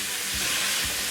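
Raw minced beef sizzling loudly in a pan with onions, a steady broadband hiss of frying with a couple of soft stirring thumps, heard alone without talk.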